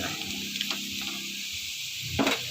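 Vegetables sautéing and being stirred in a pan for a Filipino ginisang gulay, with a steady close sizzle and hiss and a few scraping stir strokes near the end.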